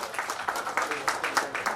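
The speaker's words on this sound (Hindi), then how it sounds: "तालियों की आवाज कम नहीं होनी चाहिए" Applause at an award ceremony: a brief run of rhythmic, moderately loud clapping from an audience, with regular pulses of hand claps in a reverberant hall.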